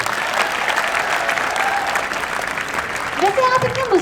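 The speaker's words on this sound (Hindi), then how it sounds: "एक बार पुनः तालियां हो जाएं" Audience applause at a Diwali celebration at a defence academy, dense steady clapping through the whole moment, with a voice briefly heard near the end.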